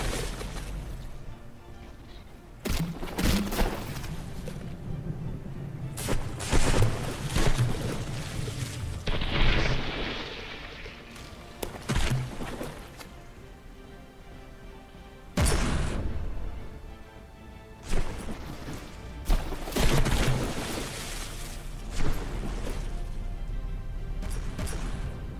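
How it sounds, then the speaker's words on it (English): Battleship artillery bombardment in From The Depths, an Artillery Yard ship pounding the Good Enough: a string of heavy booming blasts and crashing impacts, close and loud, spaced irregularly over a continuous rumble. "The Artillery Yard launching a bombardment moments after. Oh, and it strikes home."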